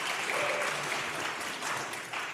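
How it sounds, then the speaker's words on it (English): Brief, fairly faint burst of audience applause at a congressional district debate, a steady wash of clapping lasting a couple of seconds. "he deserves a round of applause"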